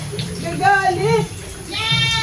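An agitated goat bleats loudly up close in a couple of wavering cries, then lets out a thinner, higher call near the end, with no talk.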